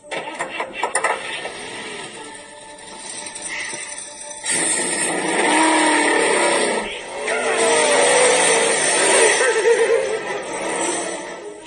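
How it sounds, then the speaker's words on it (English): Race car engines start up and rev, then cars roar past on a track, with a loud sustained engine drone that swells and fades as they go by and a brief shift in sound partway through. "now you can watch a small clip of one going around the track. Gentlemen, start your engines!"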